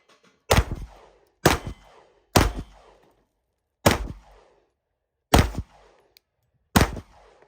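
Six separate 9mm pistol shots from an FN handgun at a shooting range, loud sharp cracks with short decaying echoes, fired at uneven intervals of roughly one to one and a half seconds.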